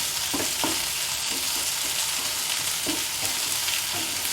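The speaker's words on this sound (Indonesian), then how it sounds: "Sambil dibolak-balik ayamnya, sambil diaduk-aduk." Chicken pieces with ginger fry and sizzle in a pan, a steady hiss throughout, while a utensil stirs and turns them with a few soft scraping knocks.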